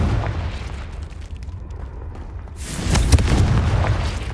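Confringo fire-spell explosion cast inside a cave in Hogwarts Legacy, a sudden loud burst about two and a half seconds in, following a quieter rumbling stretch.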